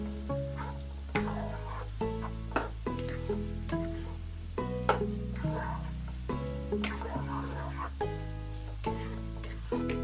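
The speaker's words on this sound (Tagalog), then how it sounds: "isunod na natin itong sibuyas. Then, tuloy pa natin yung pag-isa ng mga 2 minutes" Garlic and onion sautéing in a pan for beef curry, a steady close sizzle broken by repeated stirring strokes, with a tonal hum underneath and no talk.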